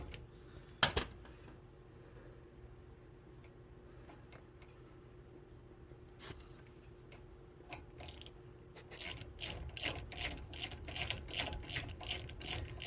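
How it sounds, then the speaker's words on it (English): A 14 mm ratchet working on the brake caliper of a 2003 Ford Explorer Sport Trac. A sharp metal clank comes early, then quiet fiddling, then a fast run of clicking ratchet strokes near the end, close and distinct. "And all you need is a ratchet, 14 millimeter, to get the caliper off."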